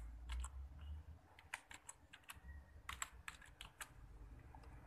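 Fingers tap out a name on a computer keyboard while setting up a Google account, quiet irregular clicks in short bursts over a low background hum, with no talk.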